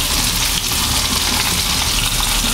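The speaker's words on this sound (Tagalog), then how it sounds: "Kumukulo na rin po yun" A pot of sinigang soup boils on a stove, giving a dense, steady bubbling hiss that runs unbroken and fairly loud, with no talking.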